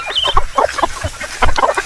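Egg-laying hens on a small farm cluck in short, close, loud bursts of several calls, hungry just before feeding.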